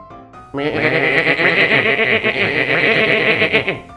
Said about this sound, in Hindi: इतने में एक बकरी का झुंड उधर आया।